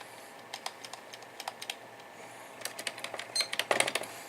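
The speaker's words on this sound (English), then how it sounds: "Yeah, this keyboard is not working so well." Someone types on a Logitech K260 wireless computer keyboard with a low battery. Irregular bursts of close, crisp key clicks come in quick runs, and the clicking grows denser and louder toward the end.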